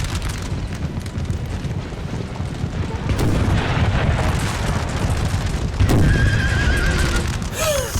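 Russian cavalry horses in the Napoleon Total War video game whinny loudly amid a dense rumble of galloping hooves and distant artillery fire, with a sharp neigh standing out near the end.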